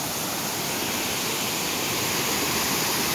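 Gandahathi waterfall in Gajapathi district, Odisha, roars as a loud, unbroken broadband rush of falling water, steady and close, with no voices.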